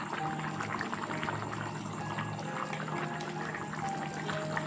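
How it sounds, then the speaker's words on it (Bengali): Ghee poured into a simmering pot of potato and papaya curry with milk and lentil fritters, a soft trickling pour over faint bubbling, steady and close, without any voices. "আর ঘি দিয়ে দিচ্ছি"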